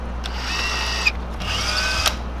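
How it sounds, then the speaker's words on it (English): A power drill turning a long drill bit while boring a channel in a lead-weighted crankbait lure, a steady whirring buzz running in two bursts with a short pause between them, close and fairly loud. "That is a long drill bit."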